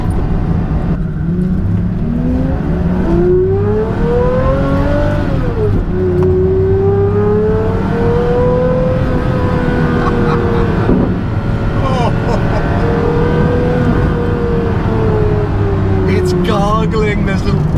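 Pagani Zonda hypercar engine revving hard while driving, pitch climbing and falling through gear changes with loud, steady roar throughout and a voice talking over it.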